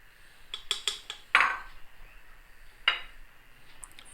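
Masala is stirred in a metal pan while frying, with sharp, irregular clinks and scrapes of a spoon against the pan over a quiet background and no talking.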